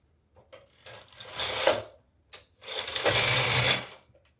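A knitting machine carriage is swept across the needle bed for two rows of a two-colour tuck pattern: two separate rattling, whooshing passes of about a second each, with a short pause between, close and with no talk.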